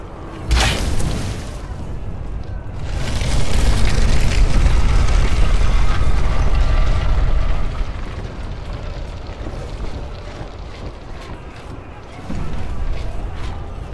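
A fire burst igniting with emerald flame in the game Hunted: The Demon's Forge, a sharp whooshing flare followed by a swelling roaring rush of flames that builds loud, then settles into crackling rumble with a second surge near the end.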